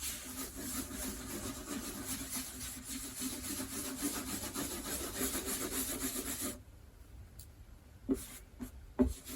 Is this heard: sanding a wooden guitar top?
yes